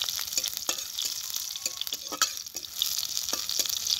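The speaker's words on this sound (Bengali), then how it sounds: "আমি ফোড়নে দেবো এই রসুন। রসুনটাকে একটু ভেজে নেব।" Garlic sizzles in hot oil as it is tempered for a spinach and fish curry, a steady bright hiss broken by sharp crackles and pops, close up and with no talking.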